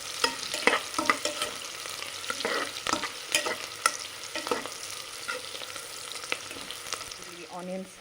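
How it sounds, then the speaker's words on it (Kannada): Onions fry in a pan for Mangalore chicken sukka, a steady close sizzle broken by frequent sharp stirring clicks and scrapes of a spoon against the metal. "ಇದನ್ನು ನೀಟಾಗಿ ಕೆಂಪಾಗೋ ತನಕ ಫ್ರೈ ಮಾಡ್ಕೊಳ್ಳೋಣ"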